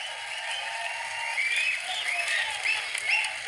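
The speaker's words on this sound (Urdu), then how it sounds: "زوردار تالیوں سے ان کا استقبال کریں" An audience at a poetry gathering welcomes a poet with steady, sustained applause, a dense wash of many hands clapping that grows slightly louder toward the end.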